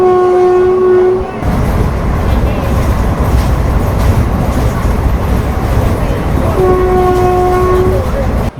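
Shoranur to Coimbatore passenger train in motion, a loud continuous roar of wheels and carriages with rattling, and a long horn blast at the start that sounds again near the end.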